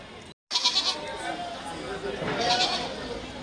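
Goats bleat at a busy livestock market, a couple of wavering calls close by, rising under a crowd murmur and nearby talk.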